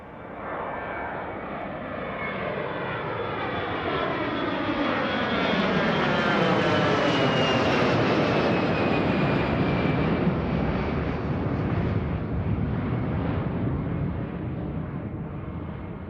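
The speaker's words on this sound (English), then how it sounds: "The hot March winds buffet the jet as we thunder skyward" A jet airplane roars as it takes off, its engine noise swelling to a loud, sustained rumble and whine before slowly easing off.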